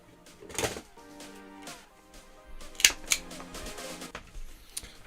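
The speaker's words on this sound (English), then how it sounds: "I'm just gonna cut a piece off." A piece of electrical cable being cut off during a copper versus CCA wire load test, with a few sharp, close clicks and snips over a faint steady hum and no talking.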